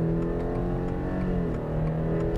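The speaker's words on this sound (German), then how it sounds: "Ich fahre hier mal durch und gebe mal Gas." A 2021 Subaru Outback accelerating on a well-known German motorcycle route, heard as a steady, close engine drone with a gently shifting pitch as it gains speed, with no talking.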